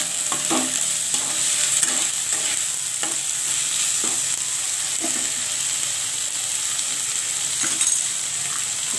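Ingredients and mustard seeds sizzle steadily in a pan for a spicy tangra fish curry with spring onion greens, while a spatula scrapes and stirs in regular, evenly spaced strokes close by.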